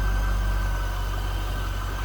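A 2001 Chevrolet Corvette convertible's LS1 5.7-liter V8 idles smoothly and steadily, a deep, constant low rumble close to the open engine bay.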